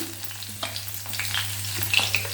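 Egg omelette frying in a pan for a spicy tomato gravy, a steady close sizzle with faint scraping and crackle throughout, no voices.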